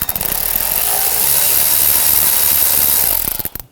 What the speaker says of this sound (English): I'm going to use a 7mm socket.